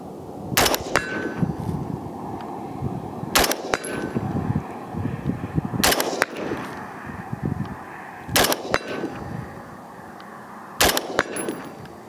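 Rapid rifle shots from a Sabre MK12 ring off an 8-inch steel silhouette target: five sharp cracks, each paired with a metallic clang, spaced a couple of seconds apart, with shaking, ringing steel between the shots.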